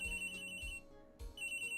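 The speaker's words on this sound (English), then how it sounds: "Loud cell phone noises!" Cell phone in the Phoenix Wright courtroom video game ringing with a shrill electronic trill, two short bursts separated by a brief gap, loud and close with no voices.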